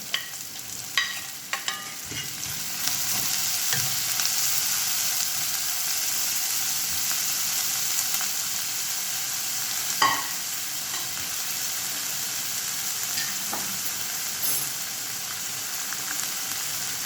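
Onions frying in oil with ginger and garlic, a steady broadband sizzle running throughout with intermittent scraping stir strokes and light clinks, close and fairly loud, no voices.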